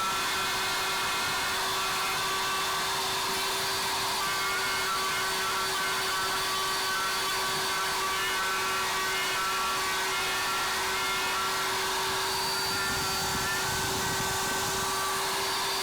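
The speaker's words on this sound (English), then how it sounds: "I'm working from both sides of the router to see better, but at least it will give me a rough cut" A router hollows out a resin casting with a constant, close whine and broadband cutting hiss that runs unbroken for the whole stretch, steady and fairly loud with no pauses.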